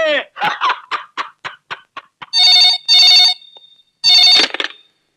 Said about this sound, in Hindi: सर गुलशन का फोन